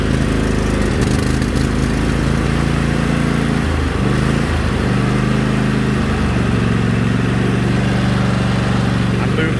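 A 17hp Cub Cadet riding lawn mower with a 46-inch deck runs loud and steady close by, its engine droning with a brief dip in the middle before settling back into a constant roar.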